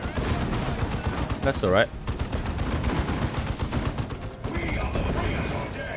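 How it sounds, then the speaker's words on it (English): Base turrets firing in the Warhammer 40,000: Dawn of War 2 video game, rapid rattling gunfire in dense bursts under a voice commenting. "Here's some base turrets though kicking in now."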